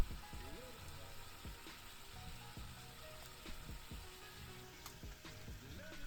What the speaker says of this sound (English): So I'm just boiling it up.